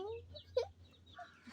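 A rooster gives short, soft clucks close by, a brief sharp note standing out among faint background sounds.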